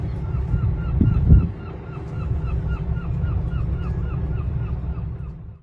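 Geese honk over and over at a French marina, the calls repeating steadily at mid distance over a low rumbling background, with a brief louder knock near the start.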